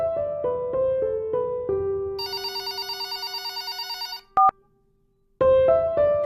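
A telephone rings with an electronic ringtone: a run of stepped melodic beeps, then a rapid trilling ring. The ring stops briefly after a short blip and resumes loudly.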